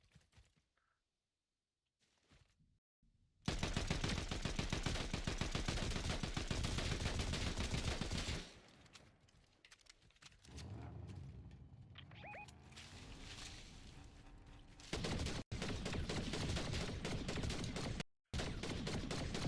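Gunfire in the Fortnite battle royale game comes in loud, sustained bursts. After a quiet opening there are long stretches of rapid shots, broken by brief pauses and sharp cutoffs.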